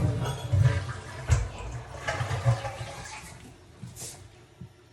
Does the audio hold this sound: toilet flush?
yes